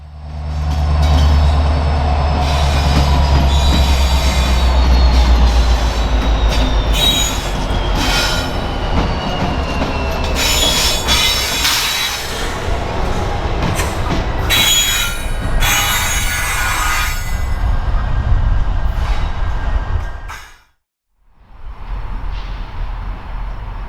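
Freight train cars behind diesel locomotives rolling past on rails with loud, sustained wheel squeal and rumble, then a sudden drop to near silence before the noise resumes.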